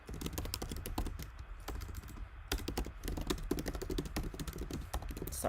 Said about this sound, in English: Sorry for the typing noises.